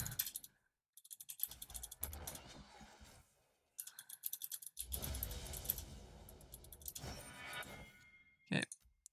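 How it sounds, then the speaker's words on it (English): Quick bursts of typing on a computer keyboard during a League of Legends match, close and fairly quiet, with clustered clicking keystrokes broken by short pauses. "So I will just type a little bit"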